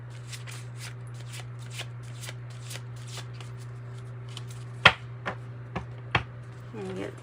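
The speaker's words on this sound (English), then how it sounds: "Let me get this shuffled again" Soft, steady riffling of a card deck being shuffled close up, broken by a few sharp taps and slaps near the end, over a low hum.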